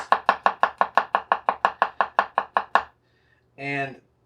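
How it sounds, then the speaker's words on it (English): A Misen Santoku knife chops garlic on a cutting board in fast, even strokes, about fifteen crisp close knocks in a row, followed by a brief pause and a short spoken sound. "quickly chop through it like this."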